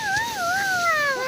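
A dog whines with a thin, wavering, high-pitched howl, close by and fairly loud, on a cool evening in Kamyshevatskaya by the Sea of Azov, with no talk over it.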